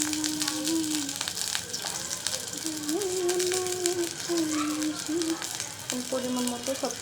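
Spices fry in a pan for a fish curry with pointed gourd, giving a continuous close sizzle with stirring scrapes, under a faint tonal background voice or melody.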